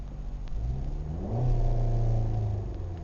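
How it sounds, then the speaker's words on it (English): A Dodge Caliber's engine runs steadily up close with a low rumbling hum, and its pitch rises slightly in a brief rev partway through before settling again. "motor sounds good."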